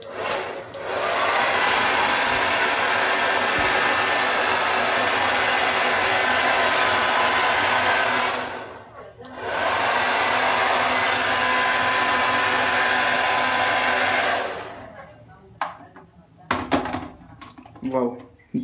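A hair dryer in a hotel room runs with a loud, steady broadband whoosh, cuts off briefly near the middle, then starts again and stops, leaving faint clicks and handling noises at the end.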